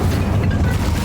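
A fiery burst from the Incendio spell in Hogwarts Legacy, a short, dense, rumbling whoosh of flame that is loud and low-heavy.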